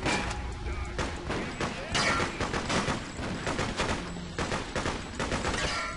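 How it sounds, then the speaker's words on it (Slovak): Rapid bursts of gunfire from the video game Freedom Fighters, loud and dense with repeated shots and machine-gun volleys throughout, with brief speech-like sounds mixed in. "strieľam ti do hlavy"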